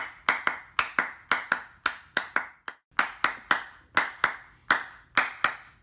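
A steady series of sharp hand claps, about two per second, loud and close, performed to trigger The Clapper sound-activated switch, with a brief gap midway and no talking.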